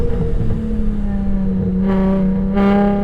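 Boosted VR engine in a Volkswagen Golf R revs at close range, a steady droning tone with two sharper rises in pitch near the end.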